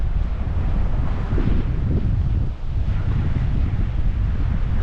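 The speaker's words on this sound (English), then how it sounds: "Sorry about the wind, guys. It's super windy today." Loud, steady wind buffeting the microphone outdoors near a lighthouse at Iwami Ginzan in rural Japan, a continuous low roar with a brief dip partway through.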